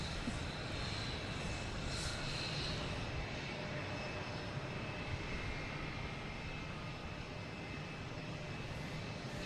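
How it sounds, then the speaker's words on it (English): A JetBlue Airbus A321 from Heathrow coming in to land at Boston Logan Airport, a steady, continuous jet engine roar with a low rumbling body, constant in level from start to finish, no voices. "here's JetBlue, A321 coming in from Heathrow"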